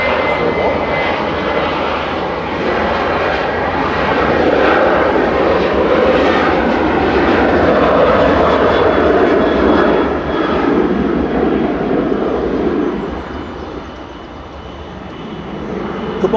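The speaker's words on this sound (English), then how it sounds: "JZBA departing from Jet2 to Girona with flight 941." Jet2 jet airliner departing Manchester Airport for Girona: a loud, sustained engine roar that swells as it passes and fades slightly toward the end, heard from a fair distance outdoors.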